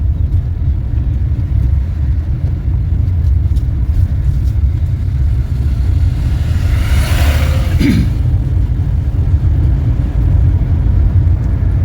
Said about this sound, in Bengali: চলুন গিয়ার চেঞ্জ।